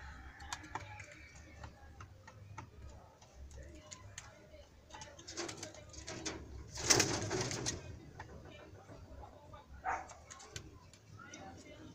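Pigeons kept in an indoor enclosure coo softly over a background of scuffling and handling noises, with a louder rustling burst partway through and occasional talk nearby.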